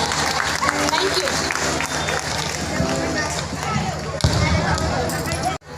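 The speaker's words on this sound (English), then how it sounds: "Please give a big round of applause for our Chairperson sir." An audience applauds at a school's grand opening ceremony, a loud, continuous wash of clapping mixed with crowd noise and some voices, fading out sharply at the end.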